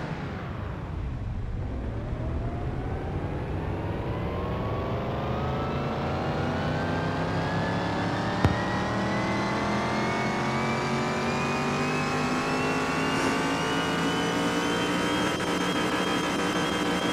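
A 1965 Impala muscle car engine in Car Mechanic Simulator 2021 revs loudly and steadily, its pitch climbing smoothly and continuously as the engine winds up over many seconds, close and alone.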